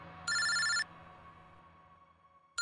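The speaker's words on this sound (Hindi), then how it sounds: "इनका फोन मत उठाओ तुम।" A telephone rings once in an indoor office scene, a short bright electronic trill lasting about half a second, followed by a low steady hum and then a sudden click at the very end.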